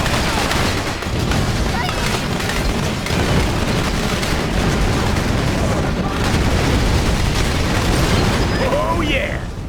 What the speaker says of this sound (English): You just blew tank number 7.